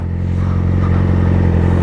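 A Yamaha R6 sport motorcycle with an aftermarket exhaust idles roughly and steadily up close, a loud low pulsing rumble with a faint mechanical clatter, as it struggles to stay running.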